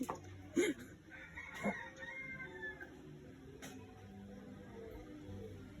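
Chickens clucking in a noisy outdoor setting, with a few short, sharp calls standing out over steady background chatter and ambient noise.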